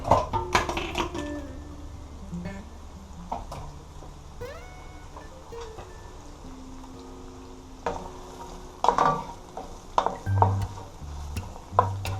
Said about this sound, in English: I'm stirring them around now so they can saute it.